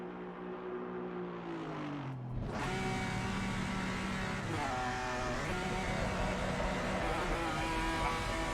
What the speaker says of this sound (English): Listen to that angry BMW pulling out of the pits, man.